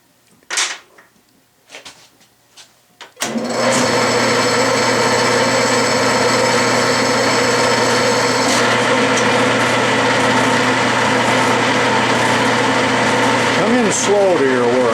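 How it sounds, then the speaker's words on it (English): A few brief clicks and knocks, then a lathe starts and runs steadily, center drilling a steel bar with a number 5 center drill, a loud, even mechanical whine and hum until the end. "I'm going to use a number 5 center drill, which is kind of a large one, and center drill both ends"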